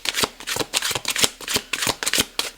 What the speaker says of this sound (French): je mélange un petit peu les cartes